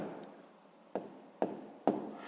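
Pen strokes on paper while writing out a sixth-grade fraction math solution by hand, a soft continuous scratch with three sharper taps or strokes near the end, close and quiet.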